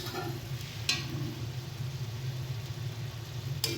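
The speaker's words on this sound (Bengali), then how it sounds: "এটাকে ঢাকনা দিয়ে ভালো মতনভাবে ফুটতে দেব।" Morola fish curry with tomato simmers under a lid, giving a low, steady bubbling hiss close by, broken by two brief faint clicks, with no talking.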